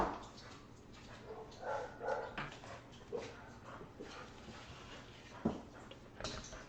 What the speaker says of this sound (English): the dogs are hearing something